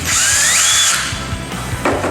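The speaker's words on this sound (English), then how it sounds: "I'm going to use a drill. Unscrew the 3 Phillips heads from the connector." A power drill whirs loudly up close as it unscrews three Phillips screws from an XLR connector, with a rising motor whine followed by choppy, uneven bursts as the screws turn.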